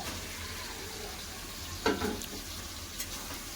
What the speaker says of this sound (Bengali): এবার ধুয়ে রাখা মাংস দিয়ে দেবো ধুয়ে রাখা মাংস